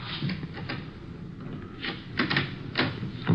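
A hotel's back door is opened in an old radio crime drama: a run of short wooden knocks, clicks and rattles, sharper toward the end, over a quiet room with no talking.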